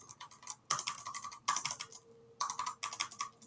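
Rapid typing on a computer keyboard during a coding workshop, bursts of close, crisp key clicks separated by short pauses, with no talking.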